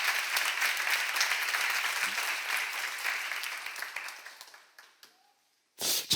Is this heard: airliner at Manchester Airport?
no